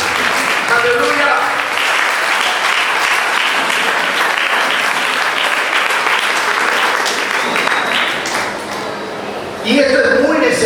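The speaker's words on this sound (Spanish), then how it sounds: "Den un fuerte aplauso al Señor, iglesia." A church congregation claps loudly and continuously during a worship service, dense applause with a few ringing tones mixed in, easing off briefly near the end before a fresh burst of sound.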